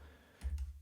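A brief clatter of a few keystrokes on a computer keyboard, close and moderately loud after a quiet moment.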